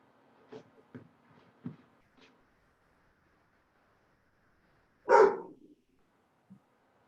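A pet dog gives a few short, soft barks or yips at a moderate distance, followed after a pause by one louder bark and a final faint yip, with no talking around it.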